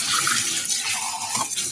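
Hot tap water runs steadily, splashing continuously as it rinses bath bubbles off kittens in a sink.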